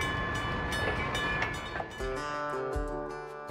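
A train on the Goose Lake Railway's Lakeview Branch in remote southeastern Oregon rumbles along with a steady low roar, its horn sounding in sustained tonal blasts toward the end.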